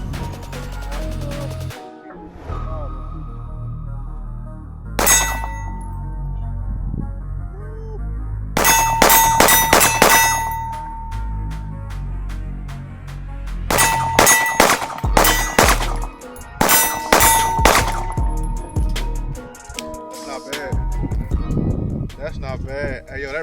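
A SIG P365 pistol with a Radian build firing at an outdoor range: several bursts of sharp, ringing shots with metallic clangs, separated by pauses, while people talk nearby.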